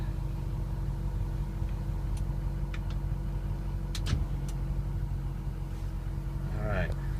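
A 2007 Ford F250 Harley 4x4 diesel idles at operating temperature with a steady low rumble throughout, joined by a few brief clicks and faint background noises.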